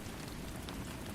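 Steady rain falls in a dense, even hiss with no break, a constant wash of drops over a surface and no voices.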